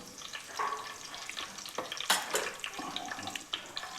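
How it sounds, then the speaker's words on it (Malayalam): Water crackling and sizzling as it hits hot coconut oil in a pan while curry is cooked, with irregular pops and bursts of spattering, one louder burst midway, close and moderately loud with no talk. "വെള്ളം പൊട്ടുന്ന"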